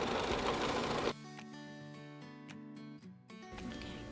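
A domestic sewing machine running a free motion quilting stitch, its motor whirring in short bursts with pauses between runs, close and fairly quiet.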